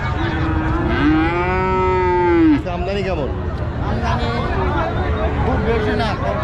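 A calf and cattle moo at a busy rural livestock market after Eid, one long drawn-out moo up close followed by shorter lowing calls, with people talking and market chatter all around.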